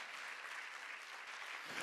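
A church congregation applauds together in a dense, sustained burst of clapping that fills the room evenly for a couple of seconds.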